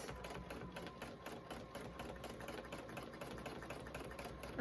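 A sewing machine doing thread painting on a fabric collage runs steadily at low level, its needle producing a continuous fast, even chatter throughout.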